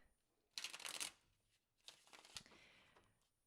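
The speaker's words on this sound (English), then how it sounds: "All right, so I'm going to shuffle some cards." Tarot cards being shuffled, heard as two quiet riffling bursts, the first crisp and about half a second long, the second longer and softer, against a hushed room.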